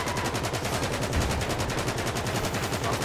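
Rapid automatic gunfire in GTA 5 sounds as a fast, evenly spaced stream of shots that rattles on without a break, loud and close.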